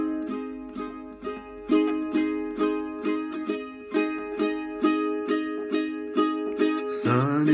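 Tenor 8-string ukulele strummed through a song's chords, steady rhythmic down-strums about twice per second, bright doubled strings ringing close and clear with no talking.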